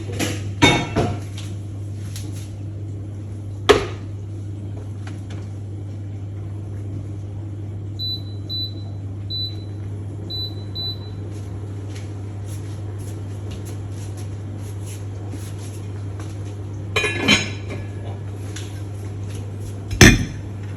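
Metal utensils clink against a frying pan now and then while cooking barramundi, a few sharp knocks and scrapes over a steady low hum.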